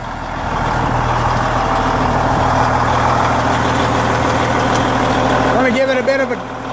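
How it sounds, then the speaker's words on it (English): A 1998 C500 truck's engine idles with a deep, steady rumble close by, its pitch and loudness holding fairly even, while indistinct voices murmur under it toward the end. "See if we can get them to give it a rev."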